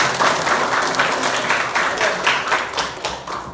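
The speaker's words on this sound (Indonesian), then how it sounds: "tepuk tangan dulu kita hari ini" Schoolchildren clap together in a junior high classroom, a bright, busy burst of many hands with some rhythmic, patterned beats, holding steady and then thinning toward the end.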